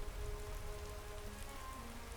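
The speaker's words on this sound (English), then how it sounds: "It's the rain, the weather." Steady rain hiss from Skyrim's weather, even and continuous across the whole stretch with a faint low rumble beneath, no voices over it.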